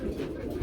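Pigeons at a pigeon seller's, among Danish and racer breeds, give a brief, close, low coo over a soft background murmur.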